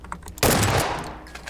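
Loud burst of rapid video-game gunfire erupts suddenly after a brief quiet moment, sustaining as a dense automatic volley before fading into faint background sounds.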